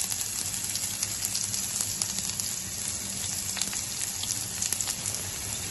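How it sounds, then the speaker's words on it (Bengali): Panch phoron spices and chopped onion sizzle in hot oil. A steady, dense frying hiss runs close and even throughout, with no talking. "কিছু পাঁচফোড়ন তেলের উপর ছেড়ে দিচ্ছি, কিছু পেঁয়াজ কুচি"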